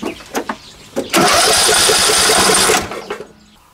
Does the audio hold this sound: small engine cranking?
yes